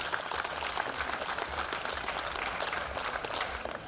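A crowd at a Canada Day celebration in Coquitlam applauds volunteers with sustained, dense clapping that stays steady and loud throughout, with a faint crowd murmur beneath.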